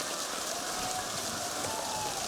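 Steady rain pours down during an outdoor women's ultimate frisbee championship final, a dense constant hiss of drops on surfaces with no voices heard.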